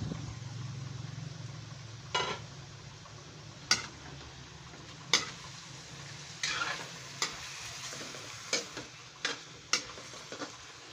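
Chicken kaldereta in a pot is stirred, a low simmering sizzle under a series of sharp ladle knocks and scrapes against the pot at irregular intervals, fairly quiet and close.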